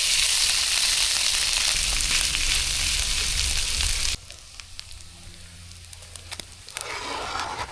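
Canned corned beef hash frying crispy in a pan at a hunting camp cookout, a loud steady sizzle for several seconds that drops sharply to a quieter crackle with scattered pops, then swells again.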